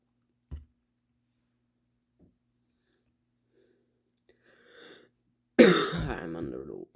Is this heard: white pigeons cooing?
no